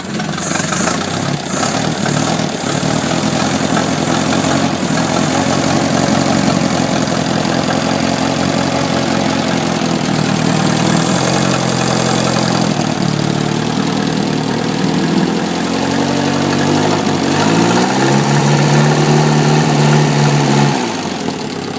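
Atomic 4 marine gas engine with transmission, built for a sailboat, idling low and steady with a loud, continuous, close rumble and slight shifts in its drone, with no talking over it.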